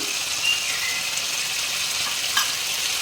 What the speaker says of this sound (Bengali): এখন এটা আমি ভালো করে এখন ভেজে নিচ্ছি টমেটোটা